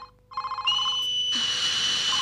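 A telephone rings with repeated electronic trills, followed by a sustained higher-pitched ringing tone, clear and fairly close with no talking.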